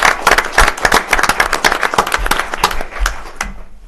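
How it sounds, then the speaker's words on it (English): A town meeting audience claps in a steady burst of applause that holds at full loudness for most of the four seconds, then thins and fades out near the end. "So you deserve a round of applause."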